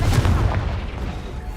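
The Confringo spell in Hogwarts Legacy sets off a loud, deep boom that rolls out and fades over about a second.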